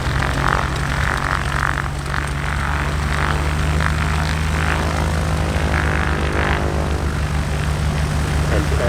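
A skytyper propeller airplane lands on a runway at the EAA AirVenture Oshkosh airshow, giving a steady, fairly loud engine drone with a low harmonic hum that holds throughout. Faint voices can be heard behind it.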